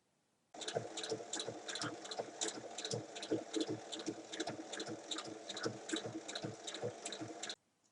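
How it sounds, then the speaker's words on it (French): Sewing machine topstitching along the zipper of a fabric pouch, a close, rapid rhythmic needle chatter that starts abruptly, runs steadily for about seven seconds and stops, with no talking. "on ouvre et on vient faire une surpiqûre tout le long de la fermeture"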